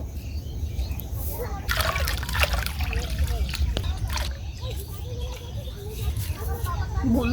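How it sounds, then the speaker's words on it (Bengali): Cut vegetables are rinsed in water, with trickling, dribbling and light splashes as pieces are swished about, fairly quiet and close, with voices speaking faintly in the background. "পরিষ্কার করে ধুয়ে নেব"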